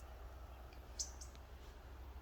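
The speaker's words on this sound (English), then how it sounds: "The birds are different than they are at my house" Birds chirp outdoors in a residential neighborhood, faint and distant, with a few brief high tweets scattered over quiet background ambience.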